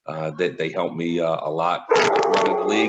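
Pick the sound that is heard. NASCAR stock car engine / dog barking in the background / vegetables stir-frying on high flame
dog barking in the background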